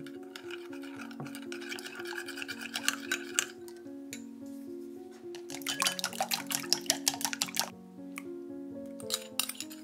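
Eggs beaten vigorously in a bowl for Japanese tamagoyaki, quick wet clicking and sloshing strokes in bursts over a steady musical background, close and without talk.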